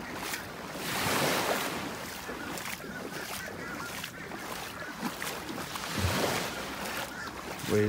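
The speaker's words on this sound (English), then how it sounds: "Wade through the water here." Wading through shallow ocean water on a beach in North Naples, Florida: rhythmic sloshing swishes of legs pushing through the water, close, over steady surf and wind noise.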